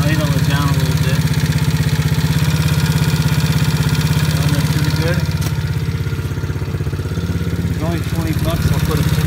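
An ATA 125D engine with a new carburetor idling up close, a loud steady low-pitched chugging putter that dips briefly as it is idled down, with someone talking over it.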